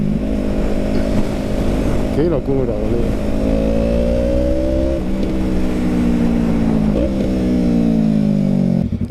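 A Yamaha MT-03 with a free-flow exhaust rumbles loudly as the rider rolls off the throttle, engine pitch swooping down and rising again with crackling overrun; someone talks over it.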